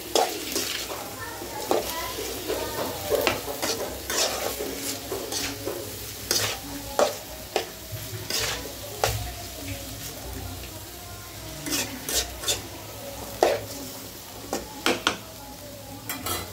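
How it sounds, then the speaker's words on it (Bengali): Chicken meat cooks and is stirred in a pot, with a soft, low sizzle broken by repeated clinks and scrapes of a spoon against the metal, and someone talks at times over it. "মাংসটা আগে একটু করে সিদ্ধ করে নিই।"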